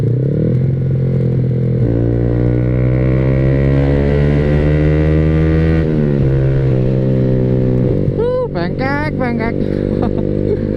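Yamaha R15 V3 motorcycle fitted with an SC Project exhaust, ridden on the road: a loud, steady engine drone holds a throttle, dips briefly, then rises in pitch with rapid revving near the end.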